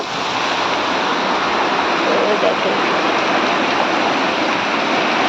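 Heavy rain pouring outside a house, a loud, dense, unbroken roar of falling water that stays constant from start to finish.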